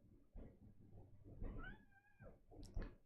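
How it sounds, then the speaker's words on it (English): A foster cat meows in a drawn-out, rising and falling call, followed by a shorter high meow, close but soft, with low background rumble underneath. "This is one of the foster cats."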